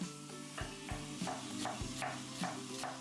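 Chicken pieces browning in a pan of hot oil, with a steady close sizzle and repeated scraping stirs that land roughly every half second over a short stretch, and no voices.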